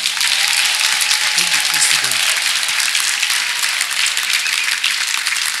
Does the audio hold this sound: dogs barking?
no